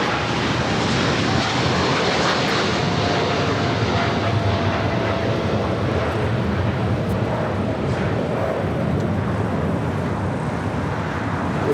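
A Boeing 777 heavy jet departs runway 25 left at LAX, a loud, steady broadband roar that fills the whole stretch without pause, with no voices.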